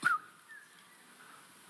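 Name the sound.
whistle imitating a call to children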